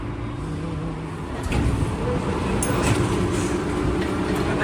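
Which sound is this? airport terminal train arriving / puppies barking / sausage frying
airport terminal train arriving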